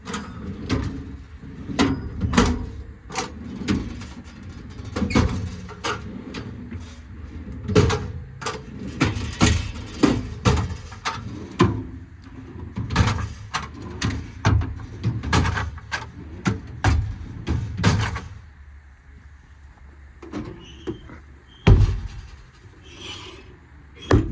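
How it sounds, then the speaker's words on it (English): Aluminum American Eagle twist-lock drawers on a 2019 Ford F-550 service body produce a run of sharp clacks and sliding rasps. The knocks come in quick clusters, close and fairly loud, with no speech. "Nice American Eagle twist lock drawer set."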